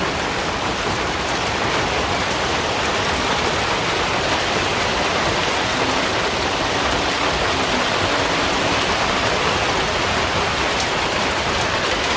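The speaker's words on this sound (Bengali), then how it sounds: "বৃষ্টির শব্দে মনে হচ্ছে টিনেরই ফোটা হয়ে যাবে" Heavy rain pounds a tin roof in a village, a dense, loud, unbroken roar of drumming drops that holds steady from start to finish with no talking.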